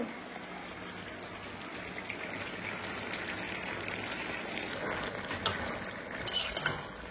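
Jackfruit fries in ghee with a steady, dense sizzle that holds for the whole stretch, close and even, with a few brief clinks near the end.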